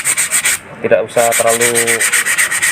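Fine 240-grit sandpaper rubbed over Dutch teak wood for a hexagonal shelf, a steady rhythmic scratching in repeated strokes, close and loud, broken briefly by a short pause midway.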